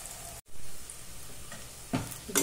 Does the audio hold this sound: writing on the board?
no